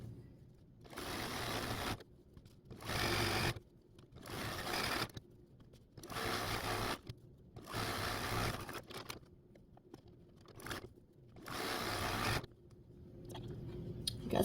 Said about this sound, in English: start 1/4 inch in from this corner to start machine stitching down this next side